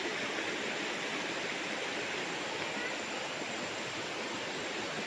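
River water flows steadily beside a farm lot in Liliw, Laguna, a constant broadband rushing that stays loud and even throughout, with no pauses or distinct events.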